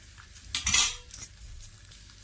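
A metal spatula scrapes and clinks against a hot tava while egg masala is flipped, giving a few sharp clattering strikes with a faint sizzle underneath and no talking.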